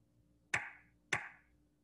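Two sharp single hand claps played back through a speaker, about half a second apart, each with a short ringing decay over a quiet background.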